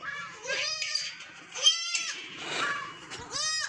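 Goats bleat repeatedly on a farm as they are let loose, several wavering, nasal cries close by in quick succession with short gaps between them.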